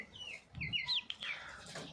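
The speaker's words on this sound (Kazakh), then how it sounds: "Жалпы міне балапандар осындай міне балапандар" Several high, thin peeps from chicks of domestic chickens overlap in quick succession, close by and fairly quiet, with a faint rustle underneath.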